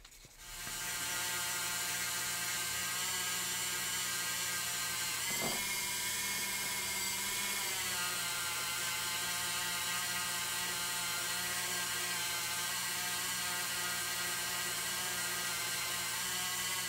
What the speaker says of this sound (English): I was just about to drill these.